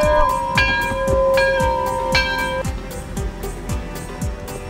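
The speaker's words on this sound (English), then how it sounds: "Somebody ring the bell!" Bell-like chimes struck repeatedly in a regular rhythm, bright ringing tones decaying between strikes, fairly loud over a low background.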